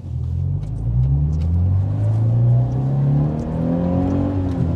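A car accelerating hard during drift practice on a sloped course, engine note climbing in pitch as it revs up, loud and close with a steady rumbling roar that then levels off.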